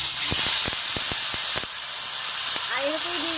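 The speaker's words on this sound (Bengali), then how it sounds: "এখন কড়াইয়ে সরষের তেল দিয়ে পটলটা ভেজে নেব।" Pointed gourd (potol) fries in mustard oil in a wok, a loud constant hiss broken by several sharp spits and crackles, with a voice speaking briefly near the end.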